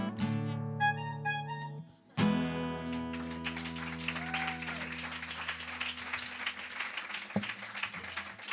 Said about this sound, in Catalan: Aplaudiment ben merescut, sens dubte.